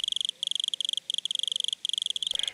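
A wood cricket in the woods of Paris chirps close by in a fast, steady train of short, high pulses, grouped into bursts separated by brief gaps.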